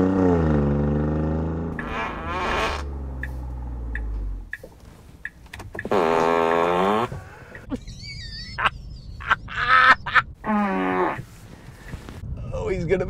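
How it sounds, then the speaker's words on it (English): A Tesla Model 3 turn indicator plays a novelty sound in place of the usual tick, heard inside the car. It comes as several loud, buzzy, croaking tonal bursts, each separated by quiet stretches. "when you indicate now, it just makes this little fun noise in your car"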